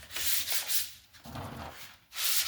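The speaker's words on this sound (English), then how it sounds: "you take your sandpaper very lightly, just over that edge. Just barely sand that." Sandpaper lightly rubbing over the edge of a car body panel, a close, dry scratchy swishing in a few uneven strokes with short pauses between them, no voices.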